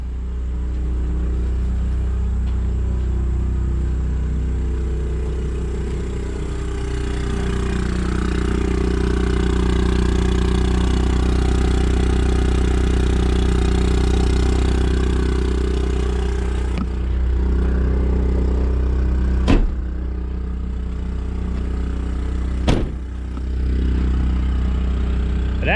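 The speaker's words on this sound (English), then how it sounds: "Here the generator's ramped up." A portable generator installed in a 1999 Ford F350 truck runs ramped up, a steady mid-pitched engine drone with a slight rise and fall, followed by a couple of sharp clicks near the end.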